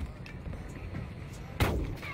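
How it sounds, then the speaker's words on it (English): A single sharp shotgun blast in the video game Warzone 2, loud and close, ringing out over a low background of game noise. "Oh my God, this is a shotgun out."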